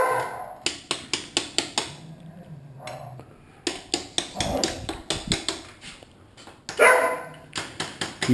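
A small dog barks in repeated sharp bursts, some in quick runs of four or five, close and clear in a quiet indoor workshop space.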